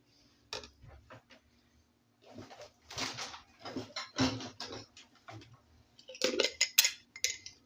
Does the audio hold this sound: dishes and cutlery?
yes